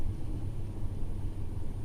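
Low, steady road rumble inside a moving car, faint and continuous with no voices.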